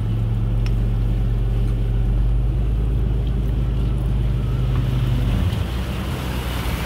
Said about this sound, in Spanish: Uy, andamos en lancha.